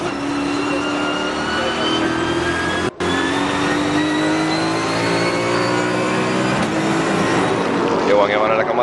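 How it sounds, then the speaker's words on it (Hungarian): A Maserati race car in a SuperStars Series round at Vallelunga, its engine droning loud and steady through rising gear pulls, with a brief dropout in the middle and a commentator talking over it. "Jó hangja van ennek a Maserati motornak."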